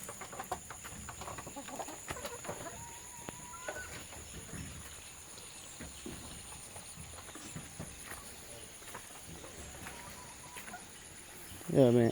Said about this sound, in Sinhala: මේකේ වෙනම ගම් කුකුල්ලෝ ඉන්නවා